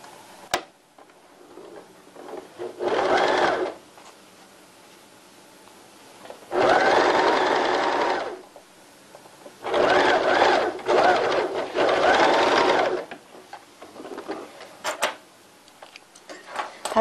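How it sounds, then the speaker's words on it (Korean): A sewing machine stitches the bottom seam of cotton underwear with a 1 cm seam allowance, running in several short loud bursts of two to three seconds each with quiet pauses between them. "밑부분 박음질부터 시작하겠습니다"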